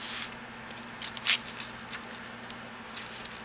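Scissors snipping a paper card flap, a few faint, brief cuts against a quiet background hum.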